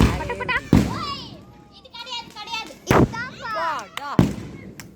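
Fireworks at an Amman temple festival at night, with several sharp loud bangs spaced a second or two apart over lively chatter and excited children's voices nearby.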